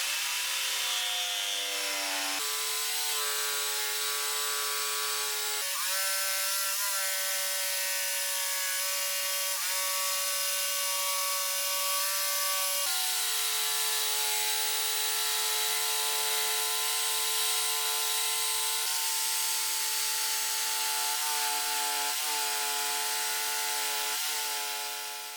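A jigsaw cuts moldings into wooden rafter tails, giving a continuous, loud buzzing drone with steady pitch that shifts slightly as the cut proceeds, running alone without any talk.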